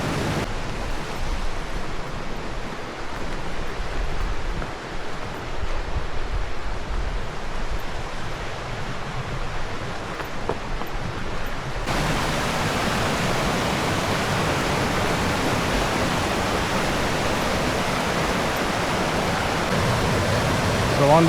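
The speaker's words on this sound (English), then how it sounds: "along the whole trail, there's been like these huge waterfalls that we just keep passing" A large waterfall beside a hiking trail to Diamond Fork Hot Springs, a constant loud broadband rush of falling water that grows stronger halfway through and never lets up.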